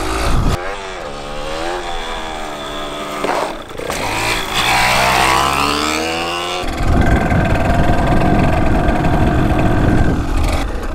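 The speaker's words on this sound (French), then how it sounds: "Là, je mets des gaz et ça monte pas trop dans les régimes, ça met pas trop d'à-coup." A motorcycle engine is revved as the throttle opens, its pitch climbing through the revs and then dropping back; the sound is loud and close, with no talk over it.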